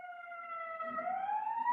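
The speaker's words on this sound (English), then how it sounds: "letting the ambulance or police or whatever pass by" A passing ambulance or police siren wails faintly from a distance, its steady tone slowly rising in pitch.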